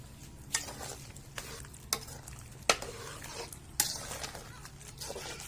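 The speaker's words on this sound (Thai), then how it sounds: "นี้หม้อกำลังพดเลยจ้ะพี่น้อง" A pot of bamboo shoot curry boils and bubbles steadily over the heat, with a few sharp clinks and scrapes of stirring at intervals, close up and with no talking.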